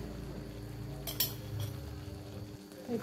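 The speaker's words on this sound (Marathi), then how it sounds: "तूप आपण आता व्यवस्थित मिक्स करून घेऊया." A spoon stirs ghee into dal palak khichdi in a pot, giving soft scraping and a few sharp metallic clinks against the vessel, close up and without talk.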